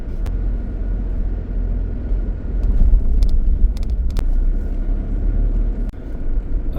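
Low engine rumble of a car creeping slowly along a winding hilly jungle road at night, a steady drone with a few faint clicks and no talk.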